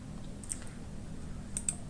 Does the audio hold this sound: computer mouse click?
yes